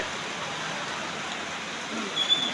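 Heavy rain falls steadily at the Mirpur bus stand in Kushtia as a broad, even hiss of downpour, with a brief louder swell near the end.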